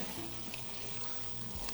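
Water poured from a container over shellfish shells in a pot for stock, after deglazing with white wine; a soft, steady splashing trickle runs continuously, fairly quiet and close, with no talking.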